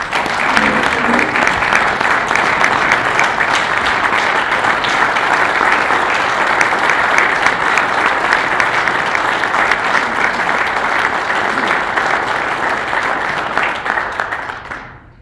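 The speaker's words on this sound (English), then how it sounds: "we can give Tom a big round of applause." Sustained audience applause at a PGA section meeting honouring a country club member's 50 years of service, a long, even roar of clapping from a sizeable room that fades out at the end.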